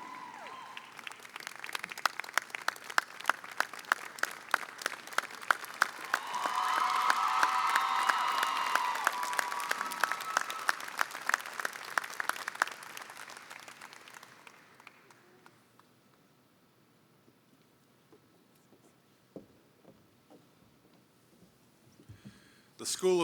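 Large audience applauding at a college commencement ceremony, dense sustained clapping with cheers that swells to a loud peak, then fades into near quiet with a few scattered claps.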